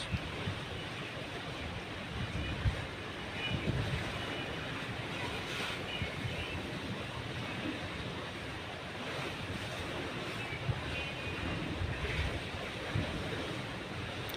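Rough sea waves surge steadily around a large ship, a continuous broadband wash with wind buffeting the microphone and occasional heavier swells, no voices.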